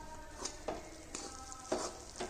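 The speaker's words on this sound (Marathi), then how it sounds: "ह्याला चांगलं परतून घ्यायचं मध्यम गॅसवरती" Poha and gram flour mixture sautéed over medium gas gives a faint sizzle with several soft, evenly spaced stirring scrapes of a spoon through the pan.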